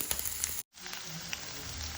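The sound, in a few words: onion frying in hot mustard oil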